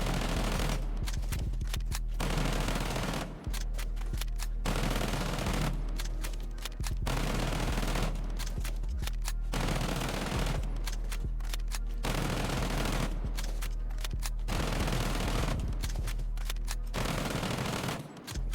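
Automatic weapon fire from Ella's gun in Rainbow Six Siege, a series of long sustained full-auto bursts separated by brief pauses, loud and close, with no talking.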